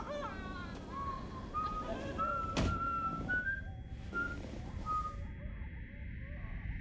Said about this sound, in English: And whistling.